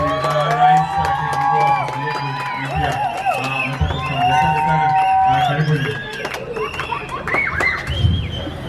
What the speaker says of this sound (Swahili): Napata makofi